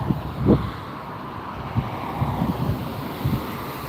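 Gusty wind buffets a microphone at Las Vegas airport, a rough low rumble with several stronger thumping gusts across a few seconds.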